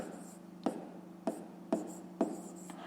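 Pen strokes on paper writing out numbers by hand for a fifth-grade math exercise, with four short distinct scratches spaced about half a second apart over a low steady hum, close and fairly quiet.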